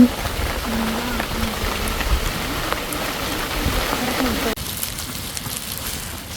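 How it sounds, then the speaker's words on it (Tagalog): Steady rain patters on a surface close by beside a river, a constant hiss with voices faintly under it. "Ayan na nga ang ulan."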